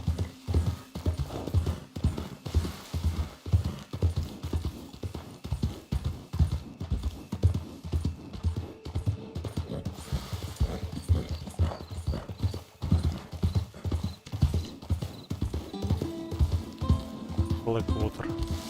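Horse hooves clip-clop at a steady trotting rhythm in Red Dead Redemption 2, close and continuous, with a brief whinny, game ambience and someone talking over the hoofbeats.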